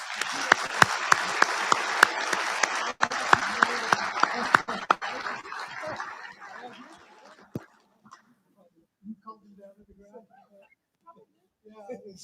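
Round of applause at a Marine Corps installations and logistics awards dinner: sharp, dense clapping for several seconds that fades out, followed by quiet room noise and a few faint sounds.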